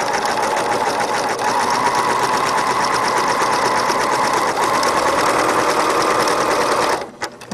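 Sewing machine running steadily while zigzag stitching right off the edge of fabric to finish a seam, a close, continuous rapid chatter that stops abruptly near the end.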